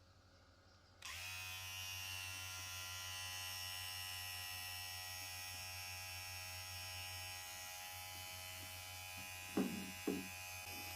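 A JRL replica electric hair clipper switches on and hums steadily with a high, even buzz, with a couple of brief clicks or knocks near the end.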